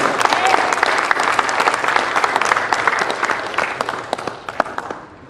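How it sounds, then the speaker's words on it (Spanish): A church congregation breaks into loud applause, dense sustained clapping that rises and then gradually thins toward the end, close and full in a worship hall. "¿Por qué no le da un aplauso al Señor?"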